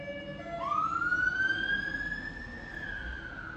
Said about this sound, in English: so sorry about the sirens